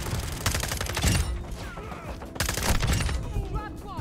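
Rapid bursts of gunfire from enemy players in Modern Warfare 2 crackle in two dense clusters, loud and close, with a voice talking over the shooting.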